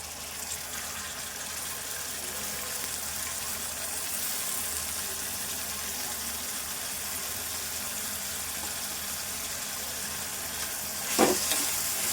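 Salt-washed prawns frying in a pan for a prawn curry, a continuous even sizzle with a short scrape of stirring near the end.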